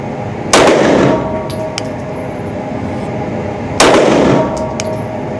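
Two loud, sharp shots from a Ruger RXM pistol loaded with 95 grain ammunition, about three seconds apart, each leaving a brief ringing tail over steady background noise.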